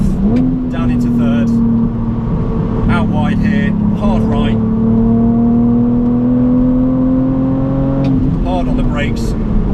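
A BMW Z4 engine drones steadily at high revs on a race track, its pitch rising and dipping with downshifts and braking, while someone talks over it in short bursts.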